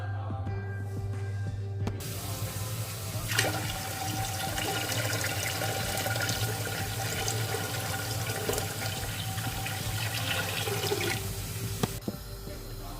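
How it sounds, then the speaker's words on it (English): Tap water pours steadily into a big pot, a continuous rushing splash lasting about ten seconds before it stops, with a faint hum underneath. "You're going to fill your pot with water and you're going to make it boil."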